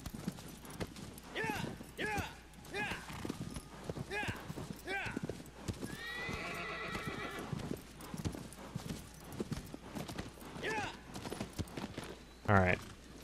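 Horse in the game Shadow of the Colossus, steady rhythmic clip-clop of galloping hooves with a neigh partway through, fairly close and continuous, with a voice talking over it.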